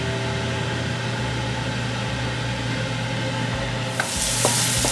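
Celery sautéing in olive oil in a pan for crab and corn soup: a steady sizzle over a low hum, with a brighter burst of frying toward the end.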